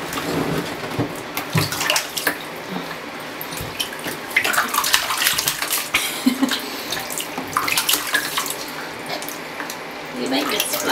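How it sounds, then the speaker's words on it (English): A baby sloshes and splashes water in a bathtub in irregular bursts, with voices talking over the splashing. "You like to make a big splash."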